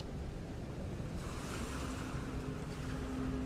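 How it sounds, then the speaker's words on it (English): Ocean surf rolling in steadily at the opening of a music video, a continuous broad wash of waves with some wind, moderately loud and with no voices over it. "you hear the sound of the ocean"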